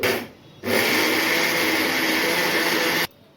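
Kitchen mixer grinder powdering ingredients for a sweet, a loud steady whirring motor running for about two and a half seconds with abrupt start and stop, near and alone.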